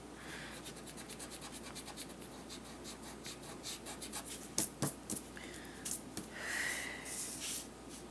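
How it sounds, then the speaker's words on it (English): An eraser rubs out pencil lines on paper while a paper crown is being crafted. Faint, quick scratchy strokes come in an uneven rhythm, close up, with a few slightly stronger swipes near the end. "Now you are going to erase the triangle part right here in your center."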